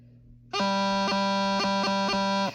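A bagpipe practice chanter holds a steady reedy note, interrupted by several quick, crisp G grace-note chirps in a short rhythmic pattern.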